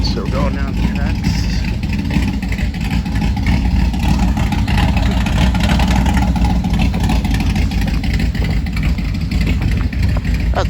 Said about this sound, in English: That's a loud car.